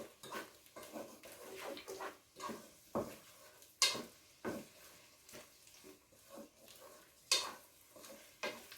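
Tomatoes are stirred into a simmering tuna bake in a pan, giving repeated soft scraping and clinking of a utensil against the pan in an irregular rhythm, quiet and close, with no talk.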